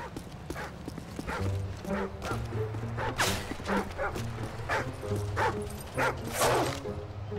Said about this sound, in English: Enemy attack dogs are approaching your location.